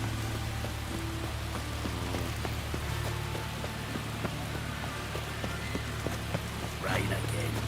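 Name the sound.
rain in a video game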